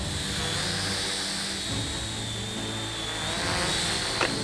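A toy dinosaur drone hovers with a continuous high rotor whine and buzz, held steady and fairly loud throughout, with no talking.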